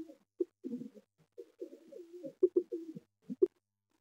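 A Laldom pigeon with ghee-colored eyes coos in short, throaty bursts and rolling phrases, close and clear against a quiet background, with brief pauses between calls.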